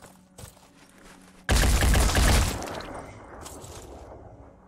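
Gunfire in the Phoenix Point tactical strategy game: a loud, dense burst of shots with heavy thumps lasting about a second, then trailing echoes that fade away over quieter game ambience.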